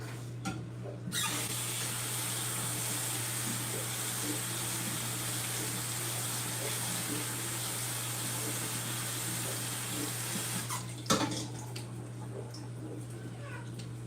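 Fresh cherries being rinsed under a running kitchen faucet: a continuous, close hiss of water splashing into the sink for most of the stretch, then the flow cuts off near the end, leaving a few drips and clinks.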